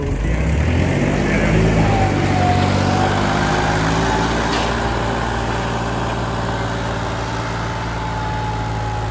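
A Massey Ferguson 254 tractor pulls a disc harrow in high gear across a harvested paddy field, a loud, steady diesel drone with a faint high whine running unbroken throughout.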